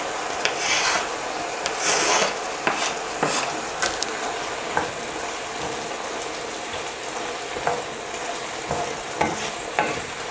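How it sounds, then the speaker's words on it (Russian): Chicken, meat and chopped onion frying in a skillet, a continuous sizzle with repeated scraping stirs of a utensil against the pan, moderately loud and close, no voices. "Далее добавляем курицу, нарезанный лук и жарим еще 3-4 минуты."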